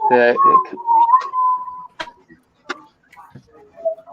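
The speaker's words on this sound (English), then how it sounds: "we're listening to her whistle, I know that much" A woman whistles a short tonal phrase up close, a clear sustained note followed by sparse clicks and faint softer fragments in an otherwise quiet room.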